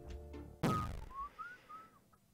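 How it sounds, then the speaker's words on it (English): A whistle sounds in a browser video game: a thunk, then a run of short rising and falling whistled tones at moderate loudness. "Why did I whistle? I was fucking dying."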